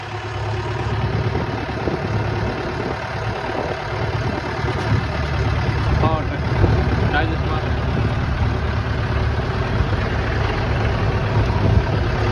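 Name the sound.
old tractor engine idling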